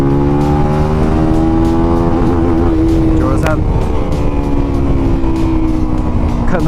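A QJMotor Race 250 single-cylinder motorcycle engine drops back toward idle as the bike coasts slowly to a red light, its close, loud, steady hum slowly falling in pitch.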